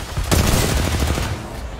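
Rapid gunfire in a shooter video game, a short dense burst of overlapping shots at close range.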